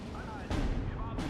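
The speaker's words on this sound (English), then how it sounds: "So that this MG can keep firing away." Machine gun fire in the World War II strategy game Steel Division 2, dense booming bursts and heavy thuds in a short, loud, continuous battle din.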